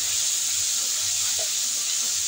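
Ground cumin, chili and turmeric sizzling in hot oil, a steady bright hiss that holds evenly throughout, close and moderately loud with no talk over it.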